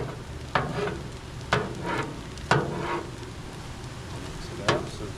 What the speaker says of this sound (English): Get down there and scrape off the bottom.